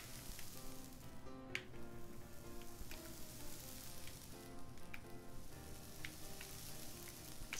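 Bread sizzling in a hot frying pan in the video game I Am Bread, a steady crackling fry with scattered sharp pops, fairly faint and without talking.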